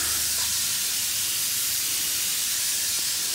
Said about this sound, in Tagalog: Sprayan natin yung patola.